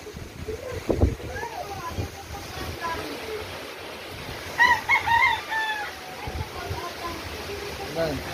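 A caged chicken in Ubay, Bohol, after Typhoon Odette clucks and crows faintly in short bursts while people talk nearby.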